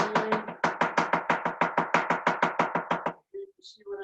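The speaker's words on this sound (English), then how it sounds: "You see when I'm chopping quickly" A chef's knife rapidly minces a crushed garlic clove on a cutting board: about sixteen quick, even, crisp chops in a steady rhythm, close and loud, then a few softer scattered taps.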